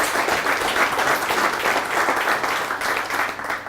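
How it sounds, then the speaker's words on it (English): Steady applause from an audience at a mayor's State of the City address, greeting the police chief; dense, continuous clapping held at an even level throughout, fading slightly at the end. "Let's have a round of applause for our police chief."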